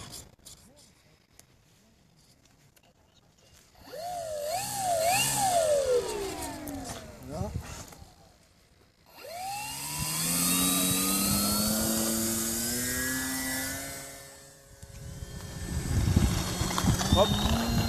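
A small Fantasy Racer ZD model airplane engine buzzes and whines in flight, its pitch rising and falling as it passes, with a person talking in French in between.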